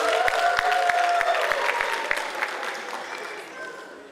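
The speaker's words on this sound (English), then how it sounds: "Kindly clap for them." A graduation ceremony crowd claps loudly in dense applause. Sharp individual claps stand out early, and the applause gradually fades toward the end.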